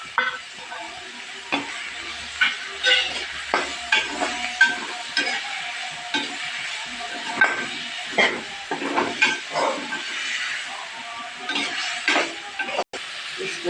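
A paste of garlic, ginger and green chili hits a hot pan for a bhindi curry, giving an uneven sizzle with repeated scraping and stirring strokes and a soft clink, moderately faint and close.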